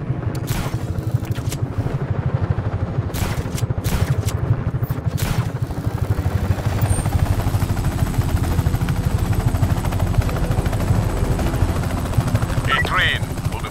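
A helicopter's rotor thumps steadily throughout in the video game Just Cause 3, with clattering game sound effects and brief bursts of noise layered on top.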